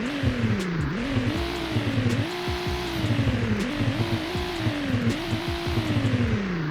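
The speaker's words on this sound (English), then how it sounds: "Here are the revs." A BMW M2 revving repeatedly in rhythmic blips, each rise in engine pitch falling back to idle, with sharp crackles between revs, close and loud with no talking.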